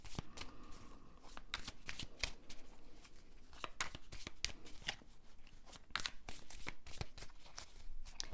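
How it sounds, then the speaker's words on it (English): Playing cards are shuffled steadily for tarot-style readings, with quick riffling bursts and crisp slaps repeating close up throughout, and no talk. "Thank you for being patient while I shuffle."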